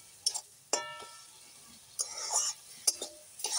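Pea greens with grated ginger stirred in a pan, a few sharp scrapes and clinks of a spoon against metal separated by quiet gaps, over a faint low sizzle.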